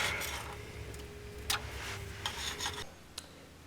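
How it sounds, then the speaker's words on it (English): A scraper rasps old residue off a Subaru drivetrain part during center differential replacement, a series of short, faint scratching strokes with a few sharp ticks, close by in a quiet workshop. "Just scrape it off."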